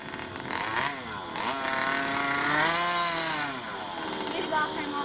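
The 29cc two-stroke gas engine of a Rovan Q-Baja 1/5-scale RC car runs close and loud, its buzzing drone rising and falling in pitch with throttle blips, while a person talks over it.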